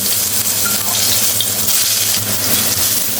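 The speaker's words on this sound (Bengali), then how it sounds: "কয়েকটা শুকনো মরিচ ভেজে নেব" Dry red chillies frying in hot oil in a pan while cooking vegetable khichuri, a steady dense sizzle that stays loud and even throughout with a low hum beneath.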